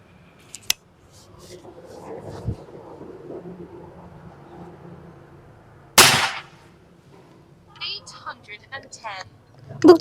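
A Bocap Monster M3 air rifle fires a single sharp, loud crack midway, preceded by quieter handling clicks and a faint earlier snap, with a voice talking afterward.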